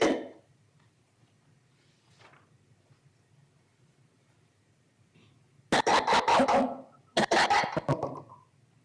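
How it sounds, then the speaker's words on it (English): Dry, staccato coughing in the background, two clustered bursts of rapid hacking coughs after a quiet stretch, fairly loud against a low hum. "You heard very staccato, dry coughing in the background there, right?"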